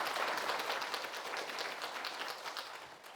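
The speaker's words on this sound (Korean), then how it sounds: "여러분 박수로 청해 주겠습니다." A Buddhist charity event audience breaks into sustained applause, dense many-handed clapping that stays fairly even and slowly tapers at a moderate distance.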